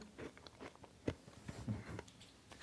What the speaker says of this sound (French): Est-ce qu'on va t'entendre mâcher?